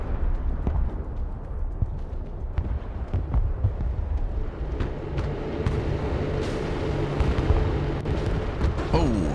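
Explosions and gunfire roll through an RTS video game battle with an A-10 shooting down enemy planes: dense repeated booms and sharp cracks over a low rumble, while someone talks and exclaims over the action.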